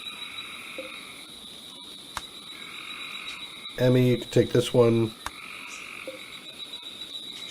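A frog croaks several times in quick succession inside the RimWorld colony game, fairly close, over a steady insect and cricket-like ambience, with a short spoken line briefly heard.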